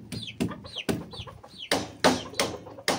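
Hens cluck in short bursts as they hurry out of their coop, close and lively, with sharp knocks of a stick on the ground mixed in among the calls.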